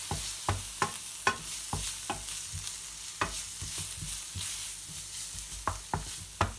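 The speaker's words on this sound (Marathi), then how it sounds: "फ्राय करून घेऊया चांगलं।" Onions and spices such as turmeric, coriander-cumin powder and red chilli sizzle softly in a pan for ridge gourd bhaji, with repeated sharp scrapes and taps of a stirring spoon breaking the quiet frying hiss.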